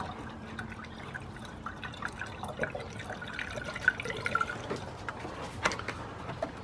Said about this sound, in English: we're going to top up the windscreen washer fluid